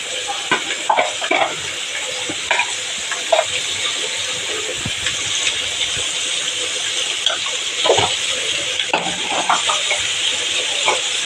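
Spices being stirred and fried in a pan for a radish curry, giving a steady sizzle with scraping stir strokes and occasional clinks, heard close and fairly continuous.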